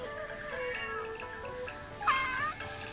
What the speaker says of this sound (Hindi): ये था हे बिल्ली, कहाँ बिल्ली?